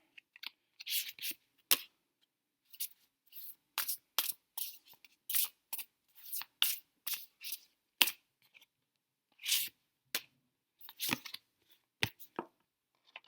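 Tarot cards are shuffled and handled in a quiet room, with repeated crisp riffles and slaps arriving in irregular bursts that are close, fairly loud and separated by short silences, with no voice.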